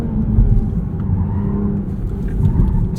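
A 2023 Toyota GR Supra 3.0 with a manual gearbox is pushed through corners on a race track, its engine a steady, loud, close drone heard from inside the cabin, with no talk.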